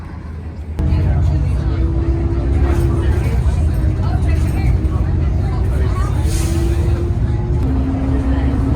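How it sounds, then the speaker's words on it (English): A city bus passing near Floatfest 2025 gives a loud, steady engine rumble and road roar through most of the stretch, with a low drone and a brief rise near the end. "He's catching a bus."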